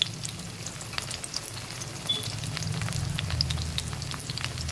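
Stuffed pointed gourds fry in hot oil in a pan, making a continuous close crackling sizzle with dense fine spatters throughout.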